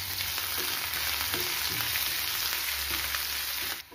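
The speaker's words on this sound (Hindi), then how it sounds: "सबको हल्का भून लेंगे।" Garlic, finely chopped green chillies and a medium onion fry in a pan with a dense, even sizzle and soft intermittent stirring scrapes, close and unaccompanied by speech.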